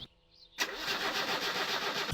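A car engine in the video game My Summer Car cranks and catches after a short near-silent pause, then runs as a steady, full idle close by until it cuts off abruptly.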